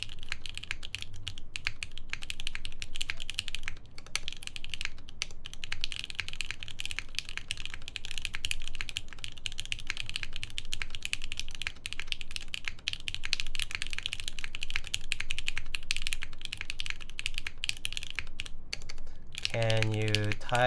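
Steady, continuous typing on a computer keyboard with a slightly hollow key sound, close and clear, a rapid clatter that runs without pause for about twenty seconds.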